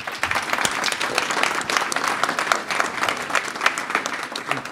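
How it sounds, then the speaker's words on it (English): A conference audience applauds after a technical talk on real-time streams and logs: a busy, even patter of many hands clapping that holds throughout at moderate volume. "let's give a round of applause to Andrew and Keith."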